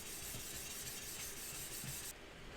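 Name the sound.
hand polishing a metal bike frame, coarse to fine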